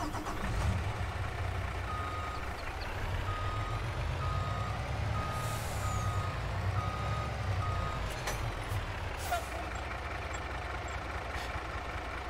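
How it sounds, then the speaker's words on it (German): A heavy Mercedes-Benz Arocs SLT truck in the Farming Simulator 22 video game idles steadily while its air brake releases a sustained hiss, and a reversing beeper pulses in the background. "Jetzt zischt auch die Luft."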